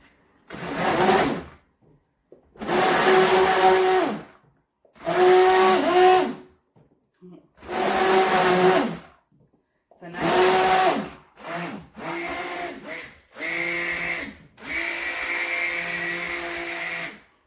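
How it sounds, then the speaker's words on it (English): A stick blender mixes clay into cold process soap batter in repeated bursts of about two seconds each, a loud whirring motor with pauses between, the last few bursts shorter and changing in pitch. "So right now I'm just going to get my clay blended well in here because I don't want to have to stick blend too much."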